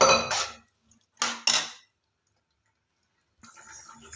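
Metal spoon scraping and clinking against a pan of chickpea gravy, in a few short bursts separated by a pause, then a softer, steadier stirring sound with light liquid movement at the end.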